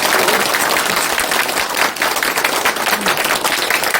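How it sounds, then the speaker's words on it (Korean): At a lecture given by a member of the National Assembly, the audience breaks into continuous, loud, close applause from start to finish. "여기서 한번 서로 박수 한번 칩시다"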